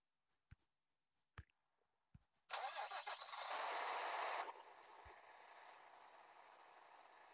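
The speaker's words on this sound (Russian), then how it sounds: "Сейчас я его заведу." An Ikarus bus engine starts in the Motor Depot video game: a few faint clicks, then a loud cranking burst that catches and settles into a quieter steady idle, with no talk.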